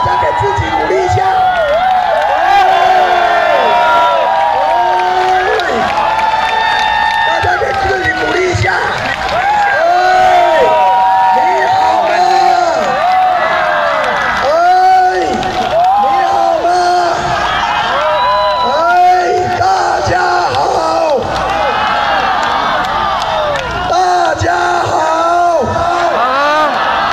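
Large outdoor crowd at a Taipei city music concert, cheering, whooping and clapping loudly without a break, with a voice speaking over a PA on top of the noise.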